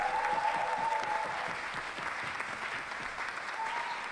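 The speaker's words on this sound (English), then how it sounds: "I just want to give them a round of applause" Applause from the audience for performers at an Indigenous Liberation Day festival event, a steady wash of many hands clapping at moderate distance, holding evenly for the whole stretch with no talk over it.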